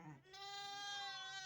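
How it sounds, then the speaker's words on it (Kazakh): A young sheep gives one drawn-out, wavering bleat up close, starting after a short quiet moment and carrying on to the end of the clip. "Жас қойлар негізі бәрі."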